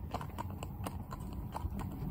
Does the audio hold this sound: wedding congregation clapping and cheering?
no